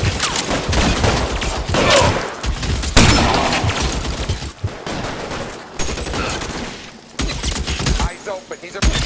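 Gunfire shootout in the LA Noire video game, rapid bursts of loud shots and volleys filling the whole stretch, with voices shouting between them.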